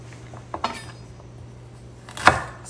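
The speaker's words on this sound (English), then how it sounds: "Slice my ginger." A knife slices through ginger on a wooden board, giving a few sharp taps and clicks, close by, with one firm chop near the end.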